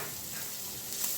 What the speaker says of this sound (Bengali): একটু বাটার দেবো, বেশি দিয়ে দেব রসুন কুচি।